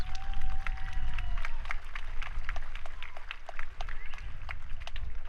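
Audience at a high school band spring concert giving steady, moderately loud applause with scattered claps and a few cheers throughout.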